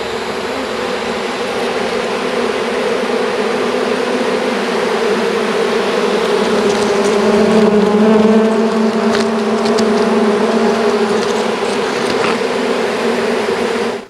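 A dense, steady drone of a honeybee swarm at an apiary in sunny, slightly windy weather, loud and continuous throughout with no talk.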